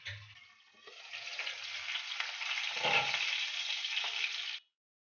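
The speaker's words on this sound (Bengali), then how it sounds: "এরপর কড়াইতে তেল দিয়ে ভালো করে গরম করে মাছের পেটিগুলোকে মোটামুটি ভেজে নেব" Chital fish belly pieces fry in hot oil in a wok, a close crackling sizzle that swells and holds strong with light stirring knocks, then cuts off abruptly.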